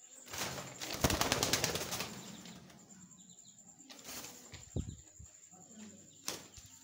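Pigeons flap their wings in sharp bursts, one long flurry followed by shorter ones, close by in a quiet space.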